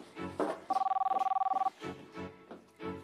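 A telephone rings with one fast trilling electronic burst of about a second, set between stretches of people talking.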